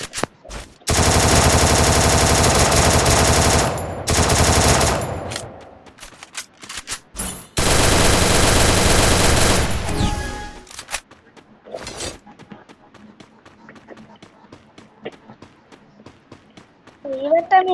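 Gunfire from a mobile shooter video game, long loud bursts of rapid automatic fire broken by short gaps, then scattered single shots and clicks as the shooting fades.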